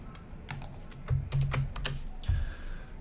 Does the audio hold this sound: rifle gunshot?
no